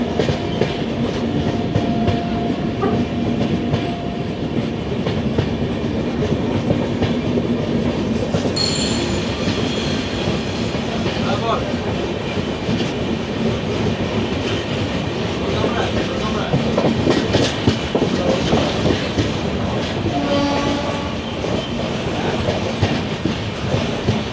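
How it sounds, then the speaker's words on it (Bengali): The Tamralipta Express passenger train runs from Howrah to Digha with a steady loud rumble, rhythmic wheel clatter and occasional squeals throughout, and a few faint voices in the background. "প্রথম ট্রেনে করে জার্নি করছি"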